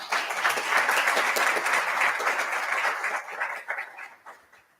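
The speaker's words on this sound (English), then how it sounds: "Keep clapping, it's awkward, guys." A student government senate audience applauds steadily for an Election Commission nominee, dense continuous clapping from a room full of people that holds level, then thins and fades toward the end.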